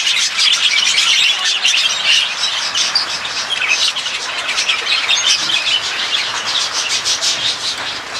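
A chef's pet bird squawks and chirps continuously at close range, its harsh, dense calls filling the space with barely any pause and no voices.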